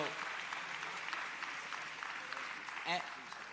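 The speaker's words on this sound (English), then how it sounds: "Gives the elected officials a round of applause" Steady applause from a crowd at a political rally in New Orleans, continuous clapping throughout with a brief louder burst near the end, fairly distant.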